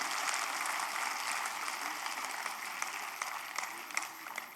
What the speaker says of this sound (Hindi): इस बात पर भी एक बार जोरदार तालियां बजनी चाहिए।